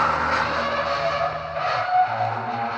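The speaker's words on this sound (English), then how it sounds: "What you're hearing here is the falling of streetlights and power lines all the way down the street, one after another" Streetlights and power lines crash down one after another along a street in a survival video game, giving a continuous loud rumbling, scraping roar with no clear pauses.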